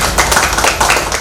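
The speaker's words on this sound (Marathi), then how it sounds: "सर्वांनी जोरदार टाळ्या वाजवा." Loud, dense clapping from an audience at a religious book worship ceremony, a short steady burst of many hands close by with no voices.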